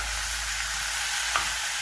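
Broccoli lightly frying with salt, turmeric and chilli in a pan for a Bengali prawn dish, with a steady close sizzle and a brief stirring knock.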